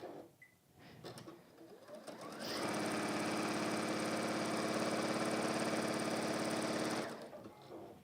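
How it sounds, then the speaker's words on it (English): A sewing machine stitches a fabric mug carry pocket, starting after some handling noise and then running in one steady, close, rapid mechanical hum for about four seconds before stopping. "whilst I'm here and I'm sewing."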